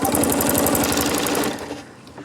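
A sewing machine stitches a Celtic knot design, its motor running in a fast, steady rhythmic chatter at close range for about a second and a half before slowing and stopping.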